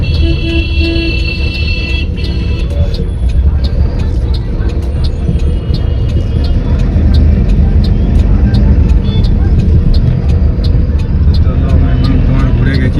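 A goods truck drives on a road near a railway gate with a loud continuous engine rumble and road roar throughout, under talk.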